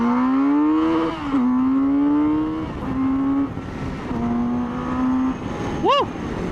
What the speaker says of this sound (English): Listen to that bike, listen to it.